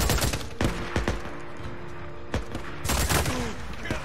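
Gunfire in the video game Days Gone, several sharp shots in quick clusters at the start and again near the end, loud and close.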